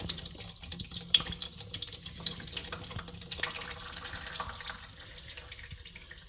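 Water trickles and drips slowly into a blocked bathroom sink with a stuck push-down plug, a quiet, irregular splashing heard close by with no talking.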